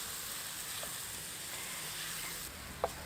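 Beef tetelan mixed with kikil frying in spices for sapi jagal, a steady soft sizzle with a few faint stirring clicks and one brief knock near the end.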